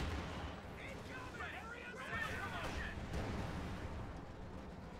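Mortar fire and battle noise in the video game Company of Heroes 2, a continuous rumbling din of distant blasts and gunfire running steadily throughout.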